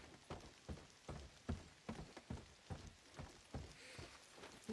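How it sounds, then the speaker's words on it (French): Rain falls in the video game Days Gone Remastered, irregular drops and patters hitting surfaces in soft bursts roughly every half second, fairly quiet and close, with no talking. "Qui se met à pleuvoir."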